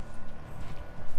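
Horse hooves clip-clop in quick, uneven beats on the ground in The Witcher 3: Blood and Wine, close and fairly loud, with a faint voice or ambience underneath.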